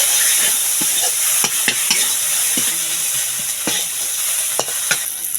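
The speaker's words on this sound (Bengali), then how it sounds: "মশলাটা একটু কষিয়ে নেব।" Chili powder, salt and turmeric sautéed in a pan give off a steady sizzle, with sharp scraping stirs and clicks of a spoon against the pan coming at irregular moments.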